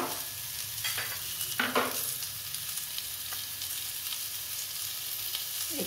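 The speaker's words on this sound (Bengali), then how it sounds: "পেঁয়াজটা একটু লাল লাল হয়ে এসেছে, এবারে আমি আলুটা দিয়ে দিচ্ছি" Potato added to browned onions sizzles steadily in a frying pan, with a few scraping stirs early on before the frying hiss settles into a constant, fairly quiet crackle.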